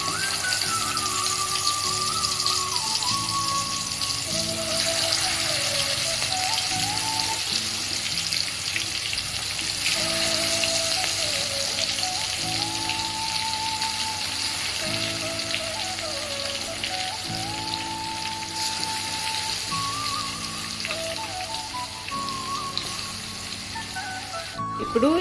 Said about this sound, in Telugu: ఆయిల్లో వేసి ఇట్లనే ఒక 10 minutes అన్నా ఉడకనివ్వాలి